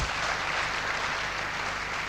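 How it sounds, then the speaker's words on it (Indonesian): Steady, dense applause from a seated audience at a talk, honoring a sponsor, many hands clapping evenly at moderate loudness for the whole stretch, no speech over it. "Mohon aplaus untuk sponsor saya, Bapak Seno Hadi."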